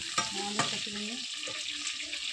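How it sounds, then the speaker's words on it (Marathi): Ginger and garlic hit a pan of onions frying until reddish, giving a steady broadband sizzle with a few sharp crackles near the start and soft stirring scrapes throughout, close and continuous with no voices. "कांदा लालसर झाला की अद्रक लसूण त्याच्यात टाकायचं."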